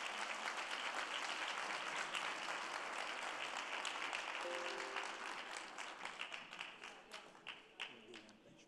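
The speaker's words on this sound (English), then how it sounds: "A round of applause, please, for our sponsors as well." A conference dinner audience applauds its sponsors with loud, dense clapping that holds steady, then thins into scattered individual claps toward the end, with a brief murmur of voices in the middle.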